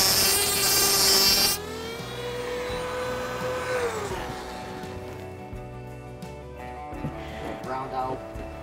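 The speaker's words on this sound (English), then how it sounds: "I'm going to take my moto tool here, my Dremel, and just take a little bit off of here to be able to pull it out" A Dremel rotary tool grinding a keyless entry lock: a loud high whine for about a second and a half, then its pitch winds down as the tool slows, with someone talking over it.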